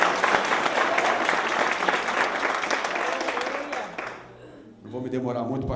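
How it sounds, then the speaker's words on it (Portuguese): A church congregation breaks into sustained applause during a morning worship service, dense and steady for several seconds before fading, after which a voice speaks. "Dê mais um forte aplauso a Ele nessa manhã."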